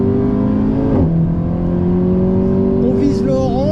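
A car accelerating hard on a race track during a women's driving coaching session, its loud engine drone steady and close, then shifting in pitch as it revs, with a voice briefly audible near the end.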